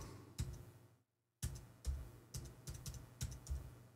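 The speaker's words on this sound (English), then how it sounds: "Let's try it with the keyboard." Computer keyboard keys are pressed in a series of distinct taps, one after a short silent gap and then several in an uneven rhythm, close and fairly quiet.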